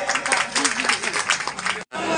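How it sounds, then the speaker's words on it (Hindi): Loud applause from a crowd at a school award ceremony, a dense, steady patter of many hands clapping close by, with a brief cut near the end before it resumes. "जोरदार ताली"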